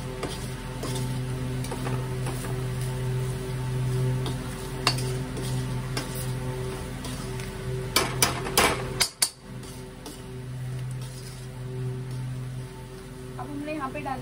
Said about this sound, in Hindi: अब इसको भी अच्छे से मिलाएंगे।